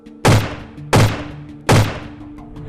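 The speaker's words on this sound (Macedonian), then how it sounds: "Одеднаш на улицата кај цветниот пазар се слушаат истрели." Three loud gunshots ring out on a busy city street by a flower market, each a sharp, close blast with a short echoing tail, spaced evenly less than a second apart.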